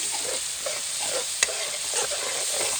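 Chopped onion sizzles in a small amount of oil in a pan, giving a continuous soft crackle with light stirring scrapes and one brief sharp click partway through.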